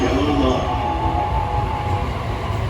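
JR Keiyo Line limited express Wakashio train arriving at a station platform: a loud, continuous low rumble of the train with steady mechanical hum and no distinct wheel clicks.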